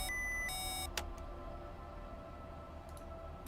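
A warning alarm in the REENTRY Apollo 13 spacecraft simulator game, tied to the oxygen system, sounds as a steady electronic tone for about a second, then cuts off and leaves a faint low hum.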